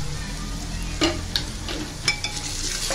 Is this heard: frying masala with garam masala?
yes